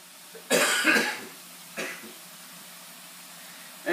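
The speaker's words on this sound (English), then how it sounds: "Go on, I know you want a cough." A person coughs in a kitchen, with one loud burst of two or three quick hacks, then a single smaller cough a moment later, each close and dry against a quiet background.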